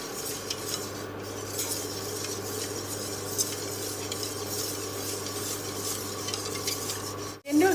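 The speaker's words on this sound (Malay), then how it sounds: "Dan kita kacaukan dia dengan api sederhana" A spoon stirs cendol mixture in a pot over medium heat, steady scraping and clinking strokes with a faint sizzle and a low steady hum underneath, no talking.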